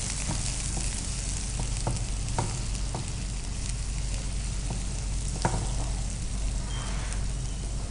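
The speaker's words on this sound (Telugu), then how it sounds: "కీరాని కూడా లైట్గా ఫ్రై చేస్తున్నాం" Cucumber pieces fry lightly in a pan with a steady, close sizzle, punctuated by occasional clicks and scrapes of stirring, with no talking.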